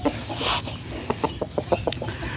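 A rooster clucks in a quick run of short, evenly spaced clucks close by, following a brief rustle, with no speech.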